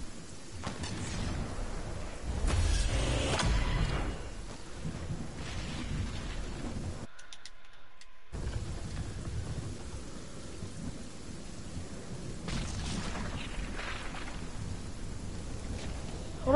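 Video game battle royale storm with steady heavy rain and repeated low thunder rumbles, one stronger roll early on, a brief cut-out midway, then constant downpour.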